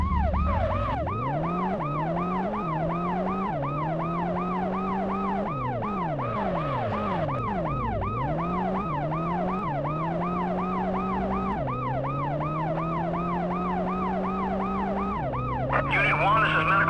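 Ambulance siren from a PS1 police chase video game, wailing in a continuous rising and falling sweep throughout, loud and steady with no talk over it.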